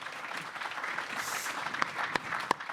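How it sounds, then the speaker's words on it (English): Audience applause at the launch of a subjective atlas of Amsterdam, a steady wash of many hands clapping with a few sharper, louder claps standing out near the end. "First, a warm applause for Anne-Vera and Wouter."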